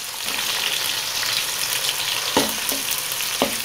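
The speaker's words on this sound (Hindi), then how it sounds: "इसको हम 1 से 2 मिनट के लिए फ्राई करेंगे हाई फ्लेम पे ही।" Tomato, green chili and ginger-garlic paste frying on high flame, a dense continuous sizzle up close with a few sharp spoon knocks against the pot.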